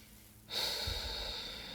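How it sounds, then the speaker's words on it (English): Deep breathing during a gentle POTS-friendly yoga flow for fatigue: one long, close, airy breath swells in suddenly after a brief quiet moment and holds steady to the end. "just breathing really deeply"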